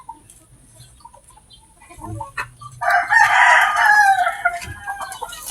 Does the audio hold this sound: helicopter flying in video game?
no